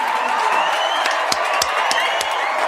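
An audience claps and cheers at a live stream show, a dense wash of crowd noise with a few sharp claps standing out, steady and fairly loud for a few seconds.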